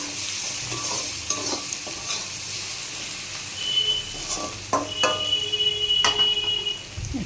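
Sliced onions salted in a hot pan fry with a continuous sizzle, punctuated by scattered clinks and scrapes of a utensil stirring against the pan, close up with no voices.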